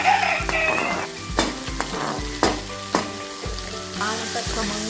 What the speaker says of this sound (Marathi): व्यवस्थित आपले गोल्डन ब्राऊन होईपर्यंत छान पायनॅपल टाकू त्याच्यात, कारण ते कॅरेमलाइज होणं खूप इम्पॉर्टंट आहे